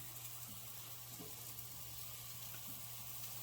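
Steady, quiet sizzling of cube steak searing in a hot frying pan, a continuous hiss with a low hum beneath it and no voices.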